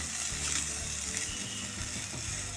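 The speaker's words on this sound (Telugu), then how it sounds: "కొంచెం ఇలా కలర్ వచ్చిన దాకా ఫ్రై చేసుకోవాలి." Okra (bhindi) sizzling steadily in hot oil on a gas stove, a continuous close crackling hiss with faint stirring scrapes, no talk.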